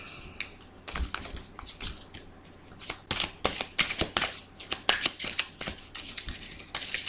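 Tarot cards being shuffled by hand in a quiet room, a run of crisp riffling and flicking bursts that come in uneven clusters, close and moderately loud, with no talk over them.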